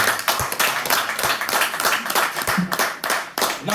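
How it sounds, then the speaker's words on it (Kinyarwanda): Guests at a birthday gathering for a mother clap in a steady, rhythmic beat, many hands striking together in repeated loud bursts for several seconds, close and lively. "ukomera amashyi"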